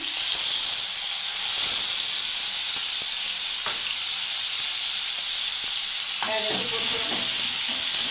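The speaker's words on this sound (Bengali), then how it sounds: "এই পেস্টটা টমেটো পেস্ট, পেঁয়াজ পেস্ট, আদা পেস্ট দিয়ে দিচ্ছি" Tomato, onion and ginger paste hits hot oil for a Bengali doi potol curry, a loud continuous hissing sizzle with a few scattered clinks and utensil scrapes, close up.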